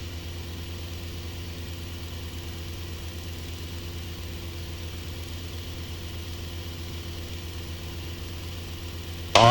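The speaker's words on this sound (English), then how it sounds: "control your rate of descent and your speed with the remaining engine" Steady, continuous drone of a twin-engine aircraft flying on one remaining engine, heard as a constant low hum that holds level throughout with no talk.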